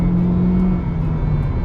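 A 2022 Honda Civic S with a CVT under acceleration gives a steady, loud engine drone with a continuous whir. The pitch holds almost level throughout the short stretch, and no one speaks.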